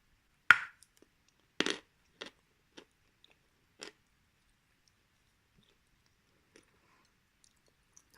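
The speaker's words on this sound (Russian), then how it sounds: "По плотности глинка средняя, не мягкая, не твердая, очень комфортная для зубов." Edible clay of medium density, neither soft nor hard, bitten and chewed close up: a few sharp crunchy bites spaced out over the first seconds, then faint sporadic clicks in near silence.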